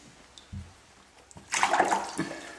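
Pet water dragons are bathed in a tub: a few soft knocks come first, then a burst of close water sloshing and splashing that dies down and then returns briefly.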